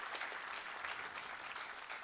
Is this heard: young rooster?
no